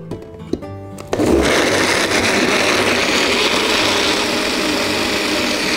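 A blender starts with a loud whir and keeps grinding ingredients for a red vegetable soup steadily at high speed, close and continuous after a brief moment of quieter sounds.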